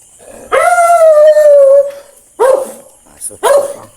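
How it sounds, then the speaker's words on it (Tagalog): A dog howls in a long drawn-out wail at night, then gives two shorter howling barks with a brief yip between, loud and close with no talk over it. "Aso."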